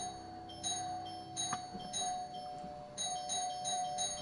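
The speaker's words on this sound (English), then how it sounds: "I don't know why he's ringing the doorbell." A doorbell in Skyrim online chimes softly with repeated high tones over a steady electronic hum, several rings spaced across the moment.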